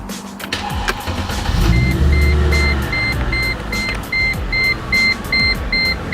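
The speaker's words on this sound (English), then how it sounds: "So let's go ahead and actually start the car," A Mercedes C55 AMG is started: a brief electronic whir and a deep engine catch, then a steady idle under a repeating high chime or beep, close-up with no talking.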